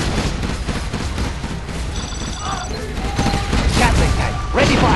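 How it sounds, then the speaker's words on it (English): Rapid gunfire from a Gatling tank in Command & Conquer Generals, a dense fusillade of game battle sounds with a unit voice line spoken over it. "Gatling tank ready for action. Gun barrel spinning. Rapid fire."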